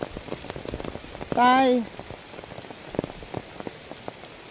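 Heavy rain patters steadily on surfaces outdoors, a dense hiss of drops throughout, briefly interrupted by a short loud shout.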